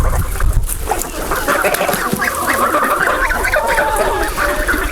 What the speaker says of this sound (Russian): как гусята свистят, пищат